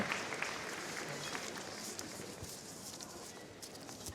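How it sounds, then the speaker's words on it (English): Sustained applause from a large audience at the Crufts 2019 dog show, greeting terriers in the ring: a dense, steady wash of clapping that fills the hall evenly from start to finish, with no break. "Just listen to the applause."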